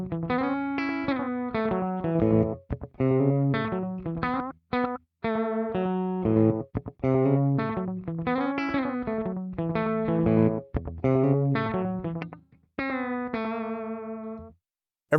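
Electric guitar through an analog delay pedal with driven gain, played in a bouncy rockabilly style with a slapback echo trailing each note, loud and close, with brief pauses between phrases.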